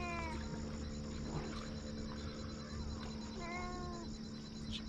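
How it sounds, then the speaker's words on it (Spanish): Cats meow faintly, begging for freshly caught piranha and palometa fish beside a balcony over the water, a few short rising cries spaced apart over steady hum and outdoor ambience. "Acá los gatos, uno y esto, se volvieron locos, quería comer"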